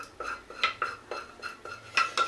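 Repeated metallic scrapes of a utensil against a saucepan, scraping out chocolate mixture for croquants, short strokes in an uneven rhythm, close and moderately loud with no talking.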